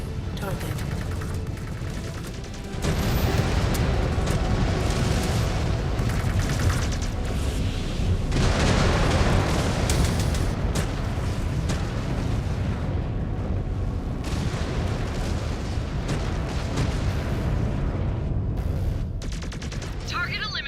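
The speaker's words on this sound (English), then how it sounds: "Exposed reactor. Explosion imminent." A mech's exposed reactor explodes in the Mechwarrior 5: Clans video game, with a sustained roar of booming blasts and rapid gunfire over roughly twenty seconds, and voices speak over the battle.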